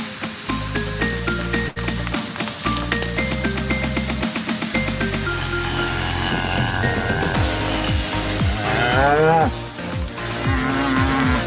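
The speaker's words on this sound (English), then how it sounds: "In our fields is our herd, our cattle herd. They're beef cows, we raise beef." A herd of beef cattle moos in a farm field, with several long, overlapping calls that come close and loud one after another. Rustling and movement noises follow the calls.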